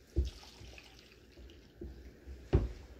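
A vintage thrifted wooden salad bowl, sanded, is submerged in water for rinsing, producing a few soft, close splashes and sloshes with quiet gaps between them.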